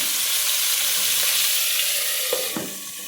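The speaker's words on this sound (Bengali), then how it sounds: "আর এখানে ফুলকপি ভাজা বসিয়ে দিলাম" Cauliflower pieces sizzle steadily in a pan of oil, a soft continuous hiss with a couple of faint clinks of utensils near the end.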